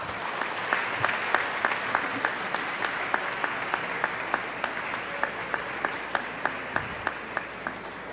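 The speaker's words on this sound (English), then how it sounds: "And give your families a round of applause for all the help they've given you." Applause at a 2006 middle school promotion ceremony as students thank their families: a steady crowd clapping wash with one person's sharper, evenly spaced claps standing out near the recorder throughout.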